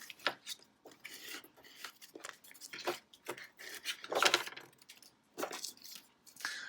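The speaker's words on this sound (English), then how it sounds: "Using my scraper, just getting it on there really good." A scraper rubbing transfer tape down onto a glass stencil gives a string of quiet, close scraping and rubbing strokes in uneven bursts, with nobody talking.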